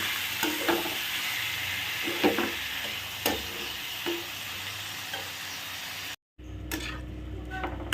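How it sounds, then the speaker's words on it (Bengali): Dalia (broken wheat) and moong dal frying in hot oil while being stirred, a steady close sizzle with scraping strokes of the spoon throughout and a brief dropout near the end. "এইটাকে এর মধ্যে দিয়ে দেবো, দিয়ে একটু কষিয়ে নেব।"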